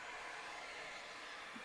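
T3 Airbrush Duo hair dryer running at a mid speed setting, a steady, fairly quiet airy whoosh that holds evenly throughout with no talk.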